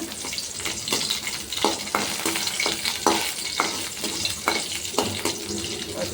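Oil sizzles and crackles in a pan while a keerai stem stir-fry is cooked in a Tamil kitchen, a steady hiss broken by rhythmic scraping stirs.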